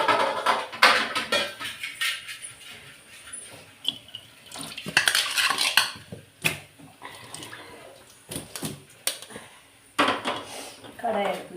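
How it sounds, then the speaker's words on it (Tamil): A kadai (wok) picked up and set down among kitchen clatter, with sharp metallic clanks and knocks, some running water and handling noises, close by in a home kitchen with no speech. "கடாய் எடுத்து வச்சுக்கிறேன்."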